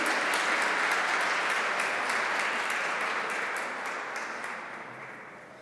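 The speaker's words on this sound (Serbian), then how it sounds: "Veliki aplauz za majstora necanja Jovanku Ćirić." An exhibition audience applauds an award winner at an awards ceremony, a broad steady crowd clapping that starts full and slowly fades toward the end, heard from within the room.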